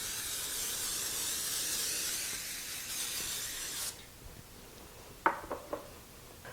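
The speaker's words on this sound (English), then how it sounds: "spray a 9x13 baking dish with nonstick cooking spray." Nonstick cooking spray hisses in a steady, close burst for about four seconds while it coats a 9x13 baking dish, followed by a few light knocks as the can and dish are handled.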